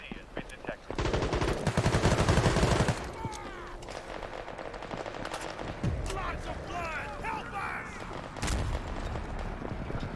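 Bursts of machine-gun fire and scattered gunshots in the shooter game World War 3, loud and rapid at first, then intermittent amid battle noise.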